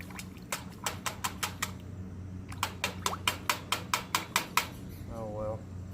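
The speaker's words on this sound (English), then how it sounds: "trying to rinse this razor in the metal bowl with tepid water" A razor is tapped and swished in a metal bowl of tepid water outdoors, a series of sharp, quick metallic knocks in two bursts, with a brief watery slosh at the end and a low hum beneath.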